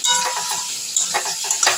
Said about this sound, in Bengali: এইগুলো একটু ভেজে নেবো আমি সবগুলোকে।